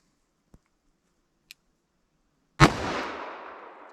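A Remington .357 Magnum round is fired from a revolver with a 4-inch barrel, one sharp loud report that rings and decays, preceded by a couple of faint clicks.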